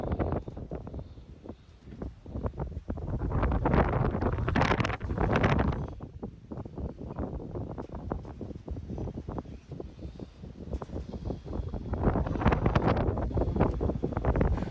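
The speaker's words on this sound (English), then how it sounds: "And it is windy." Strong gusty wind buffets the microphone on a high mountain summit along the Appalachian Trail near Clingmans Dome, roaring in long uneven surges with no one speaking.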